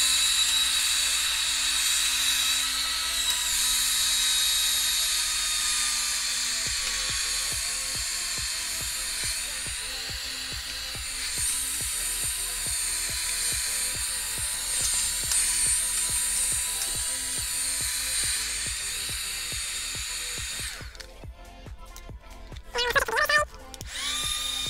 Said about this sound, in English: I'm also gonna use the other side to blow all the dust out that's all inside my case and all inside my PC